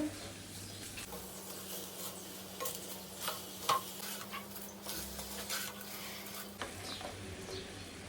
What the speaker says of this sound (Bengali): এখন এইগুলো সব ভালো করে মিশিয়ে নিব